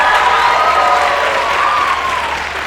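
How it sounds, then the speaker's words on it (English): Steady applause from a drama production audience fills the room continuously, loud and dense, with a few voices and cheers mixed in and tapering slightly toward the end. "let's give them a round of applause as well."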